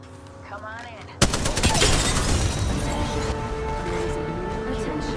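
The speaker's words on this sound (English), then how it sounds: "Opening fire on the enemy." Gunfire in the Apex Legends video game, a sudden loud burst of rapid automatic shots after a brief voice, continuing as a dense sustained barrage with crashing impacts.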